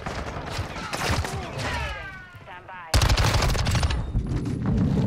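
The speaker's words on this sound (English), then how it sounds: "Decoy grenades." Decoy grenades in Call of Duty: Modern Warfare spit out bursts of fake automatic gunfire, loud rapid rattling that breaks off briefly and then resumes in a denser barrage amid game noise.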